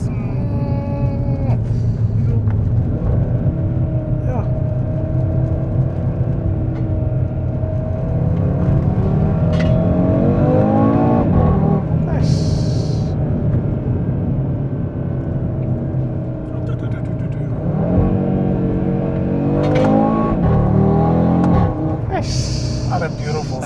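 Audi RS3 fitted with a custom downpipe downshifts on the road, its engine note rising and falling in repeated rev blips and pops over a steady cabin drone, with people talking throughout.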